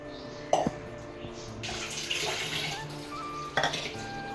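Water is poured into a pressure cooker holding rice for tomato rice, a soft running splash with metallic clinks of the vessel at the start and end of the pour.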